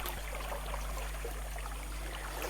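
A river current flows steadily as a soft, continuous wash of moving water, faint and even, with no voices over it.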